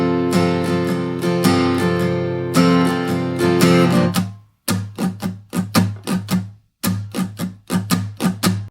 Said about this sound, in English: we'll be utilizing a nice laid back strumming pattern that sounds like this.